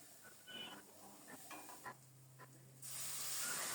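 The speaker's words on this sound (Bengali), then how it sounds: "মশলাটাকে নেড়ে চেড়ে খুব সুন্দর মতো কষিয়ে নেব।" A spice paste is stirred and fried in a pan over low heat, soft scraping strokes with light sizzling, followed by a brief low hum and a brighter hiss near the end.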